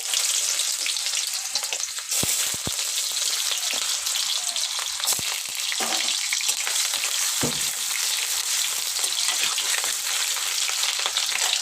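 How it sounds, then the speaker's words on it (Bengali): Sliced potatoes fry in hot oil, producing a loud, dense, unbroken sizzle lasting several seconds, with a few brief knocks and stirring sounds breaking through and no speech. "তেল গরম হয়ে গেছে, এর উপর আমি এখন যে কেটে রেখেছিলাম আলুগুলোকে আমি ভেজে নেব"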